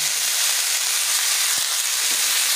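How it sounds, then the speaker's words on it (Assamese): Mustard and radish greens fry in a pan with a steady, close, broadband sizzle and hiss, with a few soft stirring knocks and no talking. "শাককেইডাল দি দিছোঁ, অকণমান ভাজি ল'ম"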